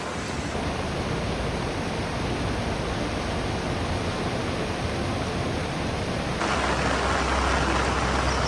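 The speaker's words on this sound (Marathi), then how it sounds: "आता पुलाला क्रॉस केले पाणी." Floodwater of the Indrayani river pouring over a bridge at Sangurdi after three hours of heavy July rain: a steady, loud, unbroken roar that swells slightly toward the end, with no talking.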